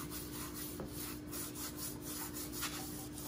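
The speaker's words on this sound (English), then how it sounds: "I always rub it in just to get the seasoning down in the meat." Hands rub seasoning into raw whiting fillets, a quiet, soft scraping and smearing that repeats in short strokes close up, with no voices.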